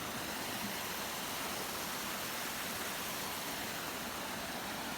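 Fresh spring water from a natural stream in the countryside flows steadily, a constant broadband rush of water that fills the whole clip with no voices over it.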